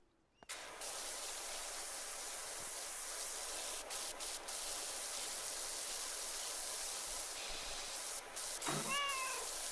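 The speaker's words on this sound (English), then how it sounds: "The fact that it meowed like a cat when I sprayed it." Cartoon cat meow from an object being sprayed in PowerWash Simulator 2, a short rising mew near the end over the constant loud hiss of a pressure washer spray.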